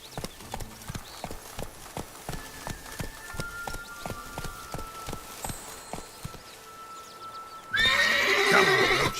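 Roach, Geralt's horse in The Witcher 3, trots with evenly spaced hoof clops on hard ground, then lets out a loud, bright whinny near the end, with no talking over it.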